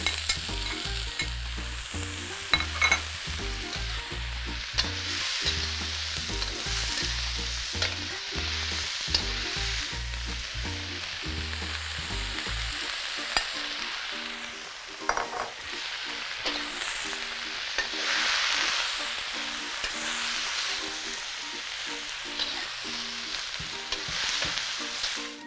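Sweet peppers sizzle loudly in hot oil in a cast iron pot while being stir-fried, a steady close crackle broken by repeated scraping stirs, with a low tonal hum under the first half.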